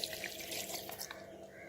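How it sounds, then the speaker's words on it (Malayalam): Water pours into a mixer jar holding chopped mango and sugar, a steady close rush of liquid that lasts for the whole short moment, with no voices. "അല്പം വെള്ളം കൂടി ചേർത്ത് കൊടുക്കാം."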